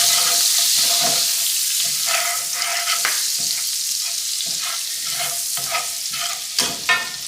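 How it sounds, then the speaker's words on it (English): A spoon stirs and scrapes pan drippings in a hot pan while making chicken marsala, with sizzling frying under a series of irregular scraping strokes close by and no talk. "Stir up all those pan drippings."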